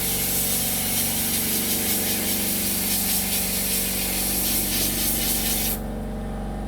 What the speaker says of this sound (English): So I've just been sandblasting some bike parts for a project, and the compressor has kept up pretty well.